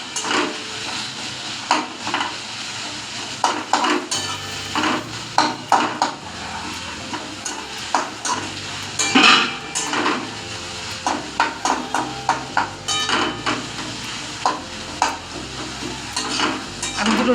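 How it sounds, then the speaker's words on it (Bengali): Onions frying in a pan for chickpea ghugni sizzle steadily while a spoon scrapes and knocks against the metal in repeated irregular strokes, close and clear, with no talking. "পেঁয়াজটাকে একটু ভালো করে একটু লাল লাল করে ভেজে নেব।"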